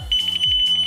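A metal detector beeps near metal furniture indoors, giving a steady piercing high tone over repeated low pulsing thumps, loud and close.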